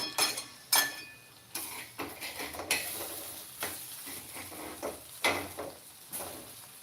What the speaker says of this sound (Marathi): आता इकडे ना वांगे काढून लगेच पात जी आहे ना ती परतायला टाकायची